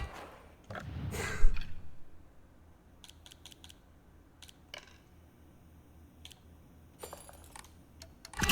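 Keyboard typing in a quiet room, scattered bursts of quick key clicks with pauses between them and a louder rustle near the start.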